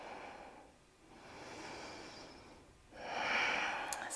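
Slow, deep breathing during a yoga pose: a long airy inhale, a pause, then a fuller exhale, close and fairly quiet with no talking.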